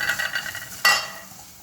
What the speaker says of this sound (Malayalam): മല്ലിപ്പൊടി ഗരം മസാല സ്വല്പം മഞ്ഞൾ അതും കൂടെ ഒന്ന് ചേർത്ത് ഇളക്കിയിട്ട്